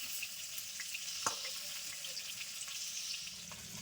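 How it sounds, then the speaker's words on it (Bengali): Pointed gourd (potol) fries in a pan while being stirred, giving a soft, steady sizzle with a single sharp clink of a utensil partway through. "পটল ভাজা হচ্ছে"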